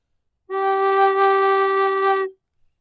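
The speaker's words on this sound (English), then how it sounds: "We're going to blow a real soft note on the flute." A Native American style flute holds one soft, steady low fundamental note for about two seconds, clean and breathy, then stops into silence.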